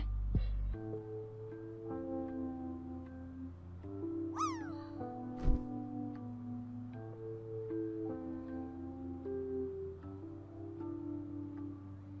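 A cat gives a single short, rising-and-falling meow partway through, heard over steady background music.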